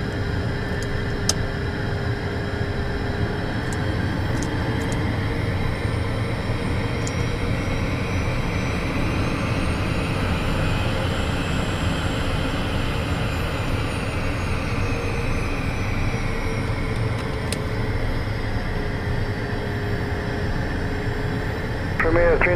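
Beechcraft Premier jet engines whine steadily while taxiing at Flagstaff, Arizona, a constant loud cabin roar with a slowly shifting tone and a few faint clicks, with no break for the whole stretch.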